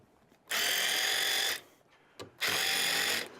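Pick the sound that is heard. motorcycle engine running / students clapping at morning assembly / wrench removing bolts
wrench removing bolts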